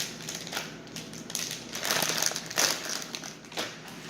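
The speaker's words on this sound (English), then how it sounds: "We're going to cut off the stems of the kale." A knife slicing the stems off kale leaves, crisp crunching and crinkling cuts in uneven bursts, close and moderately loud with no talking.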